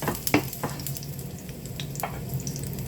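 Garlic fries in a pan with a soft, crackling sizzle, punctuated by a few sharp stirring clicks and scrapes; no one speaks.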